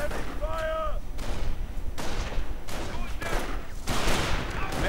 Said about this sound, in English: Snipers keep opening up, getting more and more American riflemen.